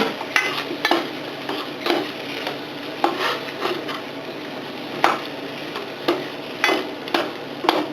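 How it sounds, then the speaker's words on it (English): Zucchini is stirred in a frying pan for a one-pan meal. A soft background sizzle carries irregular wooden scrapes and light clinks of the utensil against the pan, close and fairly quiet. "my zucchini now. we're going to stir that up."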